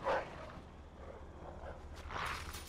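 A Rottweiler or Doberman barks in Mafia 2, a couple of short, somewhat distant barks separated by a quiet stretch, with no one talking.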